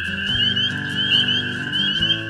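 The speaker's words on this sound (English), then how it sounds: "Sit back and listen to the frogs." A spring evening chorus of frogs and toads: dense, overlapping trilling calls that hold a steady, continuous drone throughout, with no voices present.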